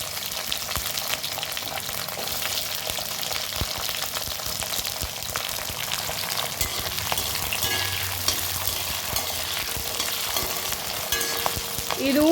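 Small shallots frying in oil while being stirred in a pan, a dense, steady sizzle with scraping stir strokes running throughout, close and unbroken, no talk.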